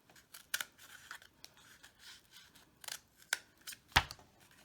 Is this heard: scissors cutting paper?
yes